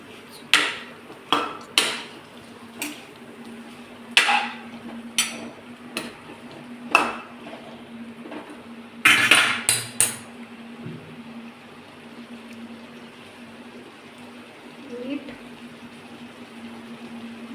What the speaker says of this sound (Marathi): चिकन ह्याच्यात पूर्ण मिक्स करू